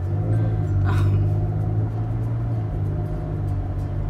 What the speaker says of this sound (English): you can probably hear my car in the background